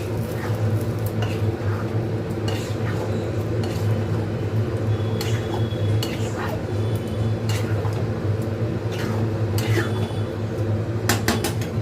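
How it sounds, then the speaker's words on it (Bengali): A pan of pav bhaji being stirred after water is added, giving steady scraping and clinking of utensil against metal under a constant background hum, with no talk. "জল দিয়ে আবার নাড়াতে থাকবো।"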